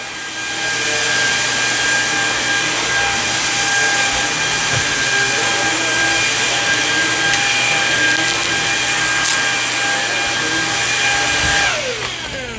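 A Samsung Jet VS70 cordless stick vacuum runs on a dirty carpet full of pet hair, a loud continuous high-pitched whine with a steady motor hum that shifts slightly as it passes over the pile.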